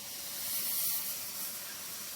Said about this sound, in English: I'm going over it once with the steam